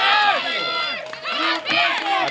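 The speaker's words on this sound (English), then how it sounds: "I can hear his fan club behind." A crowd at a junior men's 93 kg powerlifting championship shouts and cheers loudly in repeated bursts of overlapping voices, rising and falling, close and energetic.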